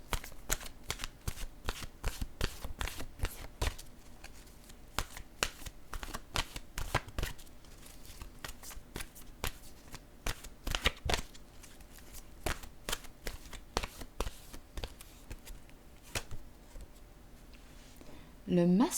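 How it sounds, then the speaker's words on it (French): Oracle cards of an intuitive-soul deck are shuffled in a long run of crisp, rapid riffling flicks, repeated bursts close up with soft slaps as a card is drawn; a voice speaks briefly near the end. "Je vais piger maintenant une carte de mon oracle de l'âme intuitive."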